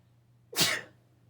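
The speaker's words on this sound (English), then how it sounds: "I had some sneezes." A single sharp sneeze bursts out close to the microphone, then quiet.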